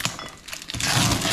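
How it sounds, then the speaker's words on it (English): Glass kitchen items clink and rattle inside a sealed package from a storage locker, giving a few light knocks followed by a louder, sustained crinkling shuffle as it is handled up close. "It sounds like glass."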